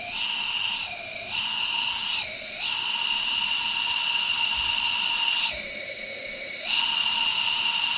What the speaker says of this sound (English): we definitely had a whole bunch of air flowing through our intake valves here